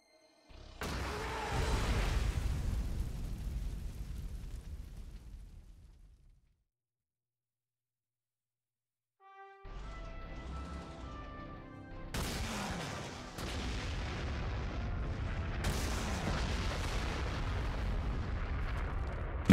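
Panzerwerfer rocket artillery firing in the strategy game Panzer Corps 2, a loud booming launch that rumbles and decays over several seconds, then silence, then a second roaring burst with sharp explosive cracks layered on top.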